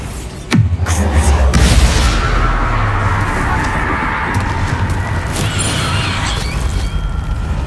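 A Bombarda blasting spell in Hogwarts Legacy explodes with a sudden heavy boom, followed by a long crashing, rumbling tail of debris and mechanical clatter that stays loud for several seconds.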